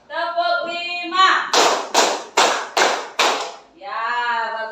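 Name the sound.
class clapping hands in a counted rhythm pattern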